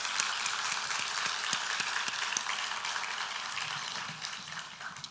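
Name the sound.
applause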